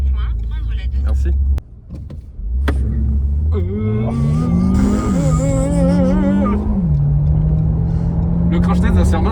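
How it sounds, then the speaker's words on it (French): A car driven hard and fast, its engine note climbing and revving under load with a strong low rumble throughout, a brief dip before picking up again, while a person talks over it. "Je roule comme un bourrin pour tester la stabilité dans une voiture"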